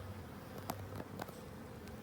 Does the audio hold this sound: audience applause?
no